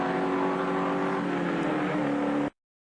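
A 1980 Holden Commodore touring car engine roaring past at full speed on Conrod Straight at Bathurst during the Hardie-Ferodo 1000, a loud sustained engine note that cuts off abruptly.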